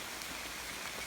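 Rain falling outdoors beside a waterfall in the Costa Rican rainforest, a steady soft hiss of drops on surfaces with no voices, faint and even throughout.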